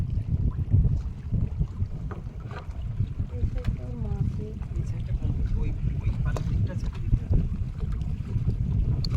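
Strong wind sweeps across a river during net fishing from a boat, producing a constant low roar that buffets the microphone, with small splashes and creaks scattered through it.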